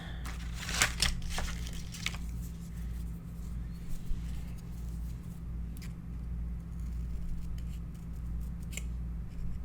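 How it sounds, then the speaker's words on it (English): Scissors trimming a paper leaf shape for a scrapbook album, a few quick crisp snips early on, then faint scattered cuts over a low steady background hum. "Let me trim this leaf."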